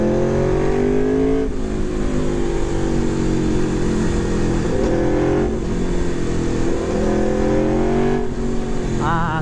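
An Aprilia RSV4 RR sport motorcycle engine roars loudly and continuously, pitch climbing and dropping through gear shifts as it accelerates hard, with rushing wind noise.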